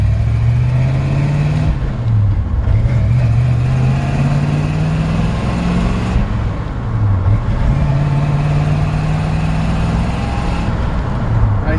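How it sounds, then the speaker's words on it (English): A 1965 Ford F100 truck with a cammed 350 V8 and manual transmission drives along, its engine note rising through each gear and dipping briefly at every shift, loud and close with a steady rumble throughout. "I literally just turned the truck on in the shop too, so put it in gear"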